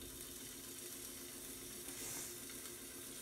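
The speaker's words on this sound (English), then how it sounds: "Sausage is cooking" Sausage frying in a pan gives off a steady, even sizzle with a faint hiss throughout, fairly quiet and with no talking.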